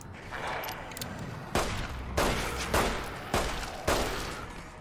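Repeated pistol shots from Fallout: New Vegas, Dead Money add-on, about five sharp reports spaced roughly half a second apart over a steady background hum.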